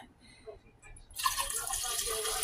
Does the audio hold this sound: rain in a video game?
no